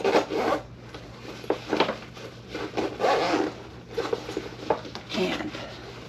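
The zipper on a pocket of a Fjallraven Farden 40L backpack is pulled back and forth in a series of close, rasping zips mixed with fabric rustling.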